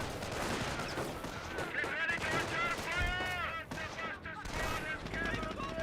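MG42 machine gun fire in Company of Heroes, heard as sustained rapid gunfire mixed with other battle noise, while a voice talks over it throughout.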